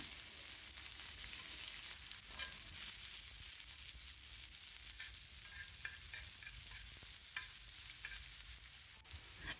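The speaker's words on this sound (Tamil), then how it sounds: "ஒரு தவாவில் கொஞ்சமாக எண்ணெய் ஊற்றி கடுகு கருவேப்பிலை போட்டுக்கோங்க பொடியாக நறுக்கின வெங்காயம்" Onions fry with mustard seeds and curry leaves in a little oil on a tawa, giving a steady close sizzle with faint stirring scrapes throughout. No one speaks over it.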